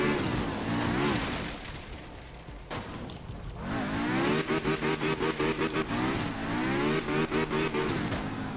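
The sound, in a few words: car with moped engine driving in video game art of rally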